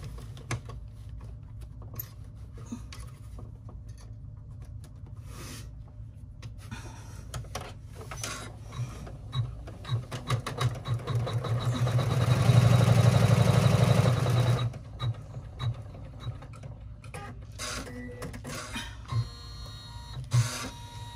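An embroidery machine stitches a bag lining seam, its fast mechanical chatter and motor hum steady and close, swelling louder for a couple of seconds midway before settling back to a lighter running rhythm.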